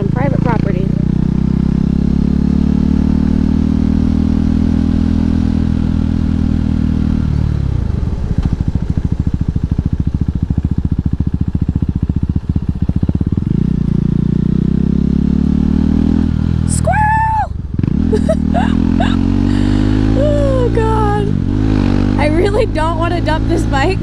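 A KTM 390 Duke motorcycle is ridden with a loud, close engine drone that rises and falls through gear changes, with sharp revs and a brief dip partway through, over steady wind noise.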